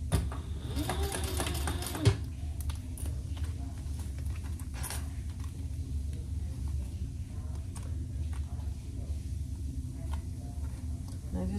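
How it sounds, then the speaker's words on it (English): A sewing machine stitches over a raw fabric edge on a purse handle, a rapid rhythmic mechanical clatter running in bursts, with a person talking over it. "we're gonna sew that in place"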